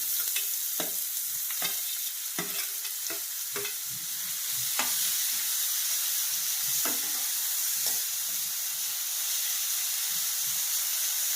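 Chopped onion and two cloves sizzle steadily in a pan of hot oil for wheat upma, a constant frying hiss broken by sharp clicks and scrapes of stirring, close and with no talk.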